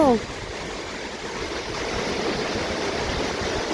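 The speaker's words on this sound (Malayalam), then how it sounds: "ഭയങ്കര ശക്തമായ കാറ്റും നല്ല മഴ" Heavy rain driven by strong wind with rushing, flowing water, a dense continuous wash of noise, loud and close, that holds steady after a brief louder opening moment.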